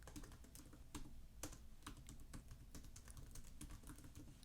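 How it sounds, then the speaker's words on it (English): Someone types a sentence on a computer keyboard, a quick run of crisp, close key clicks in an uneven rhythm with a few harder strikes, and no talk over it. "here I can just type out a sentence"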